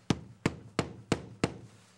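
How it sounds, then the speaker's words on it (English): Wooden plug being hammered in over a screw head, five sharp, evenly spaced knocks about a third of a second apart, close and clear with no talking. "you just hammer this right in to over the screw"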